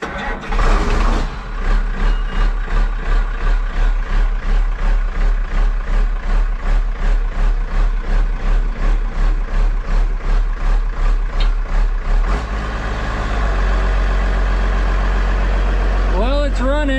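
An old TV 140 engine cranks and catches, then runs on at a steady, slightly low idle with a strong rhythmic chug. Near the end it drops to a quieter rumble as a voice begins speaking.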